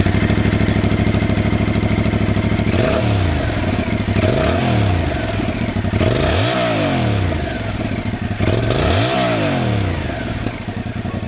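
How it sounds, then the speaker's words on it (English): A 2022 Yamaha YZF-R7 with a parallel-twin engine and an uneven firing order idles loudly, then is revved in four sharp blips that rise and fall back, each snarling up and dropping to a lumpy idle. "This motor is known for a good amount of torque and also has a really unique sound due to the uneven firing order."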